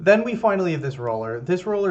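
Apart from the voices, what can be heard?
None of the usual background noises is heard.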